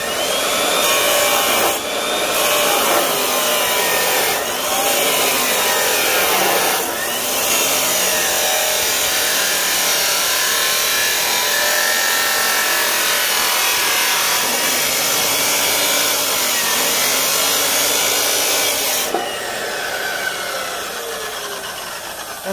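Abrasive-blade power saw cutting steel for a tractor step on a Farmall Super A, a loud continuous grinding whine that holds steady through the cut, with a few brief dips and a short pause near the end, no talking.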